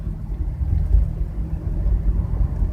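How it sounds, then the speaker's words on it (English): A failing wheel bearing on a moving car gives off a loud, steady low hum mixed with road rumble, a continuous drone with no voices over it. "it's humming pretty loud, and the noise kind of, faster I go, you know, it goes with the wheel"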